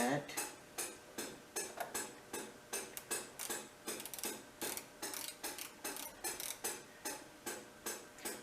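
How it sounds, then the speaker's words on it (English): Ratchet wrench clicking as it tightens a micrometer thimble on a Eureka gear cutter continuous relieving tool, a steady run of rapid metallic clicks in short bursts, close and fairly loud throughout. "I always use the ratchet in case I over tighten it, then I wouldn't get a true measurement"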